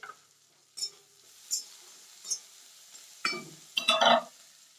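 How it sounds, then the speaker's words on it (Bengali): Potatoes and onions frying in a pan make soft bursts of sizzling, several separate stirs and scrapes of a utensil following one another, with a louder, busier sizzle at the end. "আলুও ভাজা হয়ে গেছে পেঁয়াজ কিছু দিয়ে দিলাম"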